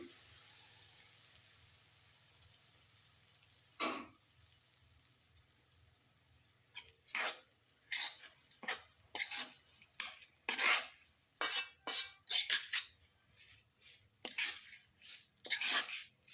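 Fried tempering mixed into gongura pickle, with a spoon scraping and clinking against the vessel in quick, irregular strokes after a quiet start, close and moderately loud, with a faint sizzle underneath.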